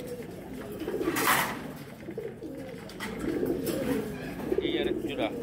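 Giribaz high-flyer pigeons, a loft of line-bred birds, coo in low murmuring phrases close by while someone talks over them, with a brief louder rustle partway through.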